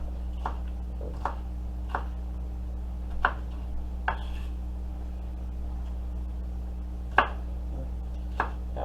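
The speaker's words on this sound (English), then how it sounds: "Chopping up my green pepper from last night." Knife chopping leftover green pepper on a cutting board, a few sparse, sharp taps spread out over the clip with long gaps between them, under a steady low hum from cooking nearby.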